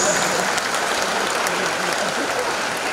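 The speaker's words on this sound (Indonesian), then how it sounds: "Tepuk tangan untuk dokter." Sustained applause from an audience honoring doctors at a Missio Canonica celebration, a steady dense wash of clapping holding at even loudness throughout.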